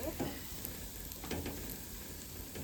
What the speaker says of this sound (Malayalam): നല്ലോണം ഇനി നമുക്കൊന്ന് ഇളക്കി കൊടുക്കാം